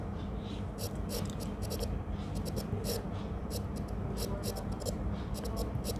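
Pen or pencil writing an answer on paper during a Class 3 English lesson, a steady run of short scratchy strokes close by, over a continuous low background rumble.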